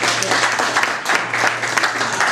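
An audience at a Libertarian political gathering bursts into applause for the Illinois Libertarians, a loud, dense wash of many hands clapping at once, fairly close and sustained throughout, with no voices over it.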